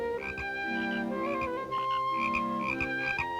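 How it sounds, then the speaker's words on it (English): Cartoon frog from a 1940 Tex Avery short, croaking in several rhythmic bursts over a steady musical backing, close and fairly loud. "Here we show you a close-up of a frog croaking."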